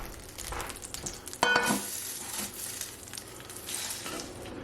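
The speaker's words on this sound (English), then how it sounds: "put this into butter and just to gently saute it for about 15 minutes" Gentle sautéing in butter gives a continuous soft frying hiss, with one brief clink of a utensil against the pan.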